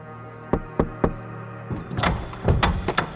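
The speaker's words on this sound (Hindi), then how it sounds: "उसके दरवाजे पर एक हल्की सी दस्तक हुई" Light knocks on a door for a horror audio drama: four sharp raps spaced about a beat apart, followed by a busier cluster of thumps and rattling as the door is handled, close and fairly loud over a quiet low hum.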